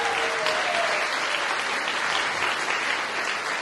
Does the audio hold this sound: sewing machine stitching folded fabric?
no